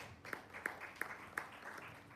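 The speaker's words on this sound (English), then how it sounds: "A round of applause for her." Faint, sparse hand clapping from a conference audience, a few evenly spaced claps in a steady rhythm, heard quietly at a distance.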